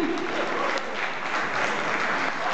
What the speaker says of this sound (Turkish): Kocaman alkışlar teşekkür ederim.